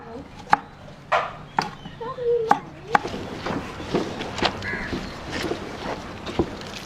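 Knife chopping ingredients, including tomatoes, for a curry in Sri Lanka, with sharp irregular cuts on a board spaced about a second apart, crows cawing nearby and people talking softly.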